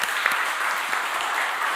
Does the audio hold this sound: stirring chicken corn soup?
no